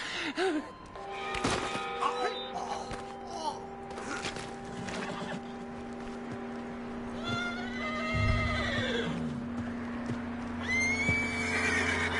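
A horse in Red Dead Redemption 2 neighs and whinnies in several bursts, with a high drawn-out whinny near the end, over steady game background ambience and occasional hoof thuds.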